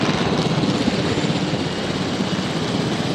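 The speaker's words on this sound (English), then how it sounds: "let's get our helicopter in position" Continuous dense rotor and engine drone from a helicopter in the Jurassic World Evolution video game, steady and loud throughout with no talk.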